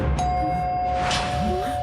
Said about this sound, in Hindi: हाँ यार, डोरबेल की आवाज आई